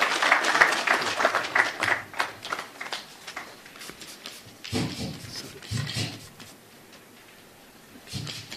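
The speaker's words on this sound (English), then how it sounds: "And we clap for the chair, please." An audience at an academic conference at Eldoret Polytechnic applauding the chair, with dense clapping that gradually thins out and then trails off into scattered claps.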